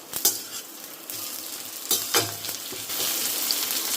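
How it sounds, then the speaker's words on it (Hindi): Onions with cumin drop into hot oil and sizzle loudly, a hissing crackle with a few stirring clatters that settles into a steady fry, close up, with no voices. "साथ के साथ ही डाल रही हूँ मैं प्याज"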